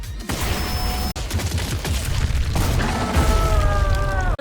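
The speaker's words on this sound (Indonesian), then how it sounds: "Setelah melemparkan sebuah stun granat," A stun grenade is thrown and explodes in the anime Kaiju No. 8, giving a loud, dense roar of blasts and rumble with sharp cracks and a fading ringing whine.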